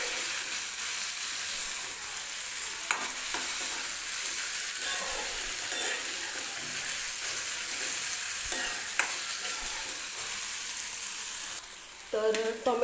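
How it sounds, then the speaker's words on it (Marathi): Chopped tomato and onion sizzle steadily in hot oil in a pan, a continuous crackling fry with occasional stirring scrapes and clinks, fairly quiet and with no voices. "आता मी याच्यामध्ये टाकणार आहे एक टोमॅटो जो कट करून घेतलेला आहे तो. टोमॅटो सुद्धा आपल्याला मऊ होईपर्यंत तेलामध्ये भाजून घ्यायचा आहे."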